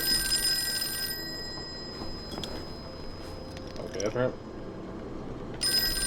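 A telephone rings in the Call of Cthulhu video game, a bright mechanical bell burst at the start and another near the end, with someone talking in between.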